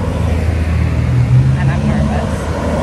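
A rented scooter in Thailand labours uphill, its engine droning steadily and loudly near the rider, with a brief rising rev in the middle and heavy wind noise throughout.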